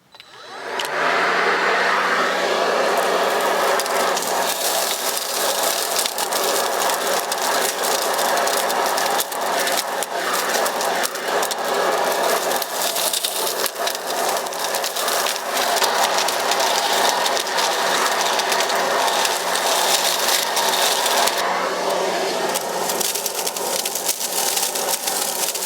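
A Black & Decker cordless sweeper vacuum running steadily over pine needles and shed leaves in a yard, a continuous loud motor whir with brushing rustle throughout and no talk.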